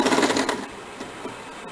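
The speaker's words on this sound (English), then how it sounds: "We are stitching the side seam of sleeve" A sewing machine runs in a short loud burst while stitching the side seam of a princess-cut blouse sleeve, then stops, leaving faint room noise.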